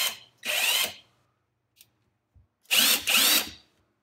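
Ryobi ONE+ R18IW3 cordless impact wrench on setting 1, three short buzzing bursts up close: one alone, then two in quick succession, with near silence and faint clicks in between.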